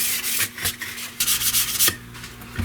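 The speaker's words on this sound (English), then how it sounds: "That wraps up the sanding" Rapid scratchy rubbing of sandpaper against an Estes Big Bertha model rocket, close up, in short uneven strokes with brief gaps.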